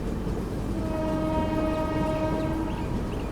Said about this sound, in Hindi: पीछे से गज़ब की हॉकिंग में कोई ट्रेन आ रही है भाई